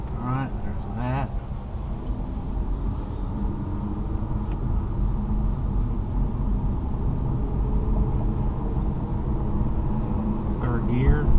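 A car pulls hard across a bridge in third gear, its engine drone steadily building in loudness under road rumble, with a voice talking briefly at the start and end.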